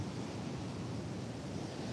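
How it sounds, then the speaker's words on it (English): Ocean waves wash on a beach at sunrise in the Hamptons, a soft continuous surf hiss with faint wind, even and distant throughout with no speech. "Look at this beautiful ocean."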